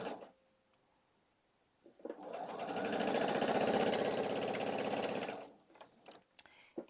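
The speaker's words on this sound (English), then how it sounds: "I'm going to line that up and sew down" A sewing machine stitches quilt block pieces in one continuous run of about three seconds, a close, steady mechanical whir with soft clicks before and after.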